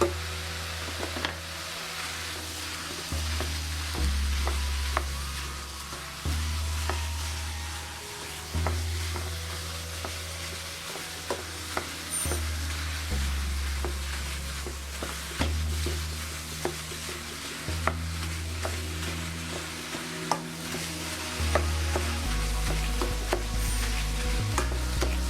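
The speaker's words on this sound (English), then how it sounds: "So I start separating the meat." Minced meat for samosas frying in a pan, a continuous sizzle under repeated scraping and tapping as a utensil stirs and breaks it apart, with a low hum throughout.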